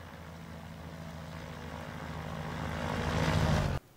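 Maule M-7-235B propeller engine droning in X-Plane 12, a steady close hum that swells louder toward the end before cutting off abruptly near the four-second mark.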